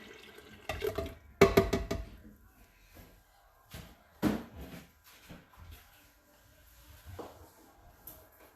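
Milk, 400 ml, is poured in for a lasagne, making a short splashing, liquid rush with a few scattered kitchen knocks and splashes afterwards, while voices murmur quietly in the background.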